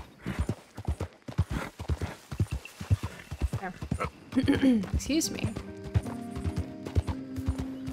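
Horse hooves clip-clop in a steady trot in Red Dead Redemption 2, then a horse whinnies, with brief speech and game-like mechanical tones later.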